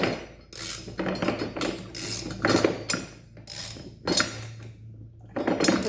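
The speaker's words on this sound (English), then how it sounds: "This is a 5/8 inch socket. So I'm going to start tightening it now." A 5/8 inch socket ratchet tightens the blade bolt on an electric lawn mower, giving dense, continuous metallic ratcheting with irregular bursts of clicking, close and fairly loud, with no talking.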